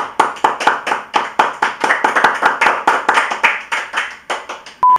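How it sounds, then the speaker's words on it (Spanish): A small group clapping on a cooking show set, crisp individual claps in a quick, slightly uneven rhythm, close and fairly loud, alone without talk. "Un aplauso."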